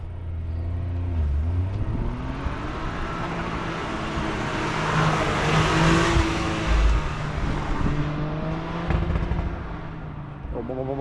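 A Toyota Corolla runs an autocross course, its engine rising and falling as it revs and accelerates past, with tire and road rumble throughout and a voice talking over the car noise.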